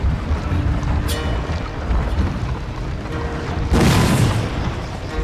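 Cannon fire in the Total War: Shogun 2 video game, with an old-style siege artillery division against a newer one, booming once loudly in a broad burst over a rumbling, windy battlefield background.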